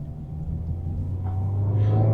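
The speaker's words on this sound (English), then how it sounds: "let's give it some gas with the Mazda MX-5" A 2024 Mazda MX-5 roadster with a manual gearbox gets throttle from inside the cabin, its engine rumbling low and steady and then swelling slightly louder as it starts to rev.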